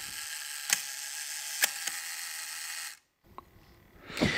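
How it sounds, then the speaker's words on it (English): The self-timer of a Leica IIIg rangefinder camera whirs with a steady buzzing mechanical hum broken by a few sharp clicks, then stops abruptly. After a short silence, faint clicks lead into the shutter firing with a close, crisp snap. "a self-timer, which provides a 10-second spring tension delay before the shutter fires"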